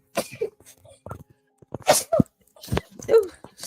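A person sneezes sharply a few times in short bursts between quiet gaps, with nearby voices talking around the sneezes.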